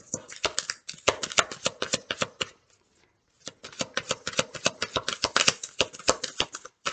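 Tarot cards being shuffled by hand: quick, close riffling bursts in steady runs, a brief pause near the middle, then more rapid shuffling, with no talking.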